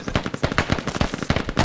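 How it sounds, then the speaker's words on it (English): Rapid, loud bursts of automatic gunfire in the military shooter game Squad, sharp cracks stacking into an uneven fusillade with no pauses over a short stretch. "I'm under fire."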